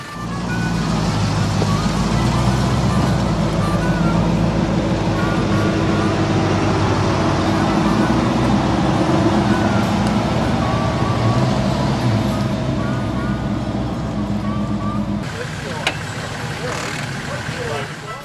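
A prepared Toyota Hilux 4x4 with a Bandera coil-spring front end drives off-road on a convoy trail toward bog holes, its engine droning loudly and continuously, with clattering and rattling over rough ground before the noise drops near the end.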